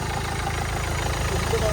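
A used car with a new engine idles at a used-car market, a steady close rumble filling the short stretch without pause.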